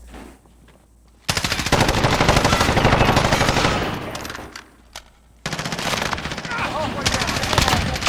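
Rapid automatic gunfire in a multiplayer shooter video game, loud and sustained in two long bursts separated by a short lull, with a player's voice talking over it.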